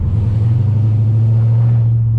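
An FBO SRT car's engine holds a deep, steady exhaust rumble up close, loud and continuous with no voices over it.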